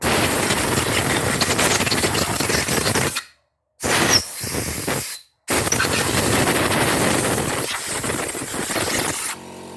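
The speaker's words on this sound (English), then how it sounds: "so oh no, the compressor will kick in" While a motor part from a CRF250 being rebuilt to 301cc is blown out, a shop air compressor runs with a loud, harsh, rattling drone, broken twice by short silent gaps before it resumes.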